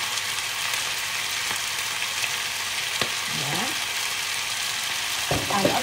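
Spicy chicken feet sautéing in a pan give off a constant, bright sizzle, with a few utensil clicks and faint background voices near the end.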